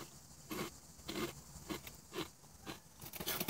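Mike Sell's Tangy Chipotle BBQ kettle-cooked potato chips being bitten and chewed up close, a series of about six sharp crunches in an uneven rhythm with quiet gaps between.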